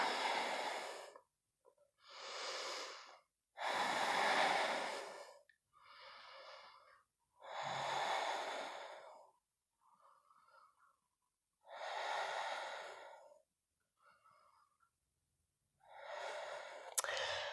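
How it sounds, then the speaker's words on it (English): Slow, deliberate breaths drawn in and out during a guided yoga strength class, about six or seven long audible breaths spaced evenly, close and fairly loud, with a few quieter short exhales between them and no talking. "Inhale, exhale. Inhale, exhale. Breathe for 5."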